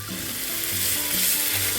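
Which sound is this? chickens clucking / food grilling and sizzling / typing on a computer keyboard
food grilling and sizzling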